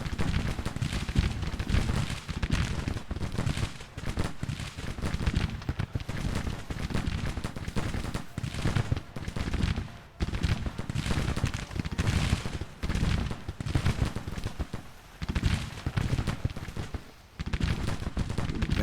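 Musket volleys and artillery crack repeatedly across a Civil War battlefield in the Grand Tactician strategy game, a dense, continuous rattle of irregular shots with heavier booms mixed in, loud and sustained with no one talking.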